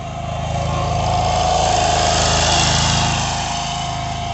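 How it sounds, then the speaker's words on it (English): A riding lawn mower drags a gate weighted with a pallet across a yard to smooth the ground, its engine droning steadily and fairly close, swelling slightly in the middle before easing off, with no talk. "Dad's on the mower"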